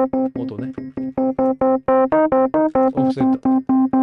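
Repeated digital piano notes struck in a steady rhythm, each with a soft percussive hammer thump at the attack, played close and dry without reverb.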